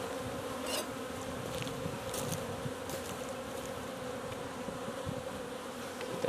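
Honeybees buzz steadily around an opened hive during an inspection, a dense continuous drone with individual bees flitting close by, no talking.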